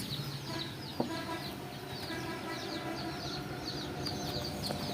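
Tiger breed chickens on a farm, a steady overlapping chorus of clucks and calls from several birds, moderately close with no voices.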